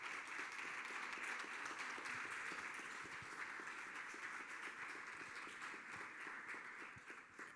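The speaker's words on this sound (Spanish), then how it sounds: "Así que un aplauso." Faint, distant applause from an audience at a Spanish-language talk on popular movements, a soft continuous patter of many hands that holds steady and then tapers slightly toward the end.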